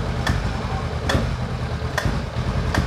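A Honda CB500X motorcycle engine runs with a steady, loud low rumble, and the throttle is blipped a few times. Sharp clicks recur roughly every second over the drone, and no one speaks.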